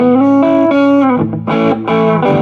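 Electric guitar played through a 1968 Ampeg Jupiter amp with the reverb switched off, heard alone and close: sustained chords with a mildly distorted tone, a brief dip, then renewed strummed chords.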